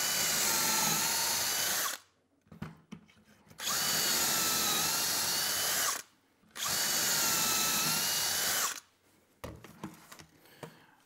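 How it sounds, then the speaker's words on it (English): A power drill boring pocket holes into wood with a Kreg jig, running in three long continuous whirring bursts separated by short pauses with small handling clatter. "So now we have the holes drilled in the top pieces and in the bottom pieces."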